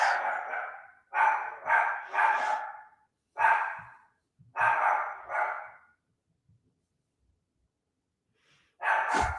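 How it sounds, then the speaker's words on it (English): Pomeranian dogs bark upstairs in clustered bursts, a few sharp yaps in quick succession, then a pause before another bark, heard clearly but muffled through the house. "not sure if you can hear the dogs"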